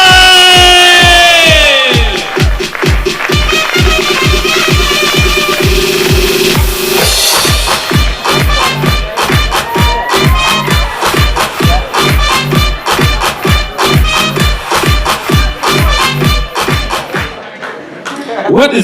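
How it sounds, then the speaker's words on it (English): Stand-up comedy battle audience at a Pakistan vs India show clapping steadily, whooping and cheering loudly, with rhythmic applause running throughout and a host speaking at the start. "Can you all start clapping, please? Start whooping and cheering as you can."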